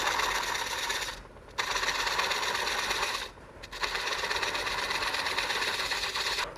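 Wood lathe turning a bowl while a gouge takes very light cuts near the tenon and foot, giving a steady broadband scraping hiss with two brief dips where the tool lifts off, close and continuous.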